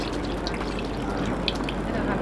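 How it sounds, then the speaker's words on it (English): Vinegar is splashed into a mojo verde sauce, a brief liquid pour and trickle against faint kitchen background noise. "we're going to give a good splash of that in there."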